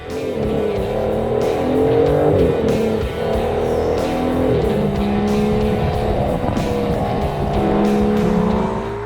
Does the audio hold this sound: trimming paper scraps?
no